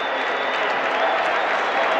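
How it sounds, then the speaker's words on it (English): A stadium crowd at a 1978 49ers vs Falcons football game roars and cheers steadily, a broad, continuous wash of noise with applause that holds loud throughout. "Crowd has suddenly come alive here in the latter stages of the 3rd period"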